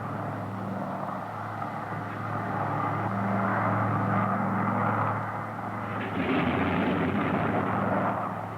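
Propeller engines of a Lockheed Electra airliner thrum in a steady, loud droning roar that swells louder near the end.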